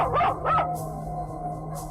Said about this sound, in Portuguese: os cães estavam latindo para essa tal coisa